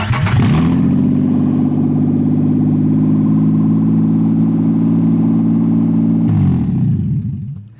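A Nissan VQ engine in an Infiniti G35 cranks and catches, then runs loud and steady close by for about six seconds before shutting off, with no talking.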